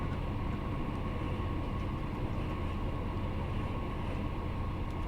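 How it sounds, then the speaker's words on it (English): Class 158 Sprinter diesel train running at full speed between Edinburgh and Glasgow in Train Sim World 4, a loud, constant cab roar of engine and wheels with no letup and no talking. "quite fun driving this train at speed"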